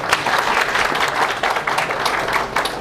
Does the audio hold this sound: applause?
yes